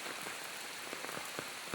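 Heavy rain pours down onto surfaces nearby, a loud, dense hiss with scattered heavier drops pattering through it, steady from start to finish.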